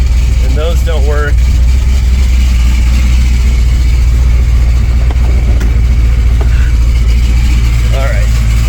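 An LS3 V8 fitted in a Land Rover Defender 110 idles loudly with a deep, steady rumble, while a person talks over it now and then, close to the engine.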